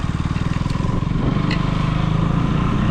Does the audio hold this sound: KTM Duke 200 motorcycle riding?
yes